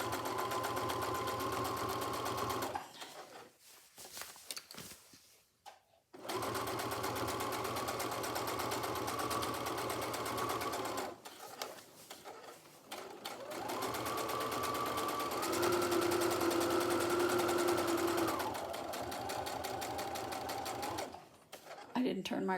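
Domestic sewing machine top-stitching a fabric project bag, running in long steady whirring bursts with short pauses between them, fairly close, while someone talks in the gaps.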